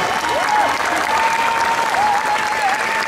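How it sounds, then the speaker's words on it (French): Loud, sustained clapping from a cosplay show audience, filling the hall continuously, with a thin wavering tone running underneath. "Est-ce que vous pouvez applaudir?"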